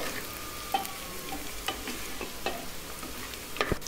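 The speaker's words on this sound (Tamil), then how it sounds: "போட்டுட்டு நல்லா வதக்கிக்கலாம்." Onions for mutton gravy sauté in a pan with a close, steady sizzle, broken by several sharp scraping clicks as a spatula stirs them. No voices are heard.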